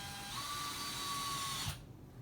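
A power drill drives a screw into drywall in a short whining burst of under two seconds that rises in pitch, then cuts off abruptly, quiet and close.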